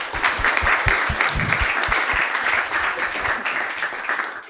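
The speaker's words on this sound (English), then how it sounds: "we give that group a round of applause" Steady, dense applause from a seated audience at a college debate, a continuous wash of many hands clapping nearby at even loudness throughout.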